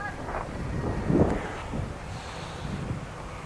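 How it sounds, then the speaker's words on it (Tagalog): Steady wind buffets the microphone with a low, rushing roar, gusting a little stronger partway through, with no voices. "ang sarap ng simoy ng hangin"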